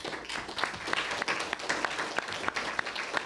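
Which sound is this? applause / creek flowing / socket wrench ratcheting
applause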